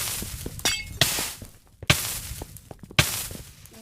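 Blocks being broken in a Minecraft lucky block race, a series of sharp crunching, glassy break sounds at a fairly steady pace, each one a short burst standing alone with no talking.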